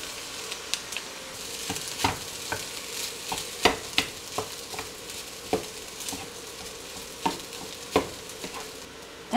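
Vegetables, rice and soy sauce stir-fry in a pan: a constant sizzle runs underneath while a spatula scrapes and taps in uneven, frequent strokes, close up with no talking.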